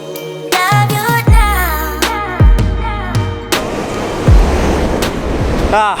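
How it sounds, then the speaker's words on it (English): Surf rolling in at Sunshine Beach, Noosa, loud and near with wind buffeting the microphone, while people chat over the crashing waves. "We've arrived on Sunshine Beach."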